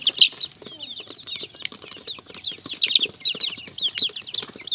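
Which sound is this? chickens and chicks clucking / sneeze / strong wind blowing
chickens and chicks clucking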